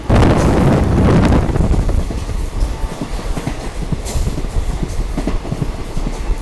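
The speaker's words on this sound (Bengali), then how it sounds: "আমাদের ট্রেন এই মুহূর্তে এসে পৌঁছালো হচ্ছে বারসই জংশনে" Kanchanjungha Express (13173, Sealdah to Agartala) pulling into Barsoi Junction, heard from on board: loud, close rumbling with a rush of wind and rhythmic clickety-clack of wheels over rail joints, easing slightly after the first seconds.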